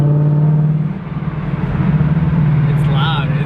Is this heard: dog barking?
no